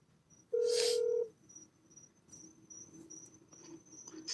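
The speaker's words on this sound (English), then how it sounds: "I hear a phone ringing." A phone sounds one loud electronic ring tone lasting under a second, then fainter high chirping tones follow over quiet room background.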